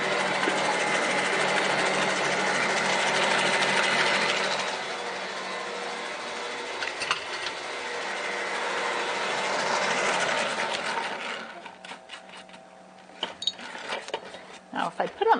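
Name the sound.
Bosch stand mixer mixing sugar into cake batter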